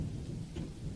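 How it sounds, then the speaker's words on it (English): Heavy rain pours down in steady sheets onto a dirt path, a dense unbroken hiss with low rumbling beneath, constant and fairly faint. "The rain falls in fast, steady sheets."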